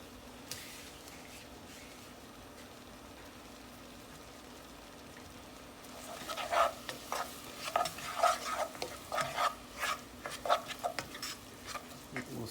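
Baby spinach and finely chopped green onions sautéing, near silence at first, then a run of close stirring scrapes and light sizzle in the pan for the last half.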